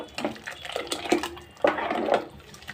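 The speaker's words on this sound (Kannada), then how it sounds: "ಹದವಾಗಿ ನಮಗೆ ಎಷ್ಟು ಬೇಕೋ ಅಷ್ಟು ನೀರು ನೋಡಿ" Water poured into a pot of sambar with sambar powder in a home kitchen, a splashing, gurgling flow in two bursts, the second louder and steadier, close by with no talk.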